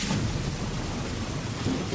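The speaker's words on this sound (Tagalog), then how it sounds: "Ay, ang lakas ng ulan sa labas." Heavy rain falling outside, a steady dense roar and hiss that holds evenly throughout with a low rumbling undertone and no voices.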